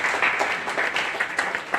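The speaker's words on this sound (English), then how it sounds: "Please clap for Uganda Radio Network." An audience at a media training session on elections claps in a short, scattered burst of applause.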